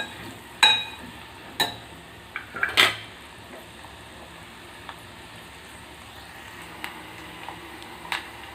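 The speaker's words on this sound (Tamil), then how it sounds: "மல்லி மிளகா, அந்த பவுடரை இந்த எண்ணெயில் சேர்த்துக்கலாம். நல்லா கலரி விட்டுக்கலாம்." Roasted coriander-chili masala powder is stirred into hot oil for a Chettinad chicken gravy. A few sharp metallic clanks of the spoon against the pan stand out early, followed by quieter scattered taps over a faint background.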